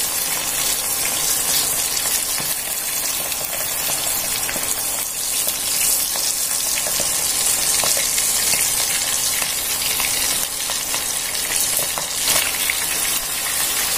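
Battered smashed shrimp fry in hot oil over medium heat, filling the space with a dense, loud, unbroken sizzle and bubbling crackle, close up and steady throughout with no voices.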